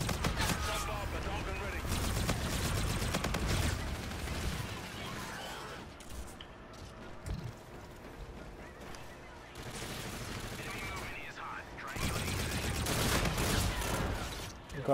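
Video game gunfire rattles in sustained, dense bursts of automatic shots, loud and continuous with brief lulls, mixed with other game noise.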